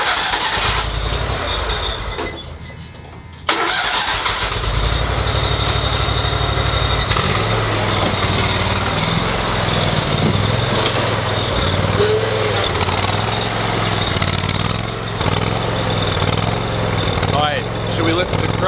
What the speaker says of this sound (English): Let's go mow some grass.